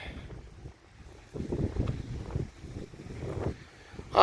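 Strong wind at a beach in a landscape park buffets the microphone in low rumbling gusts, rising and falling throughout with a louder burst at the end.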